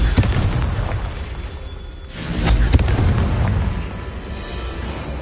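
A Confringo spell explosion in Hogwarts Legacy booms loudly as a deep, rumbling blast that swells midway with sharp pops and crackles, sounding close and heavy without talk over it.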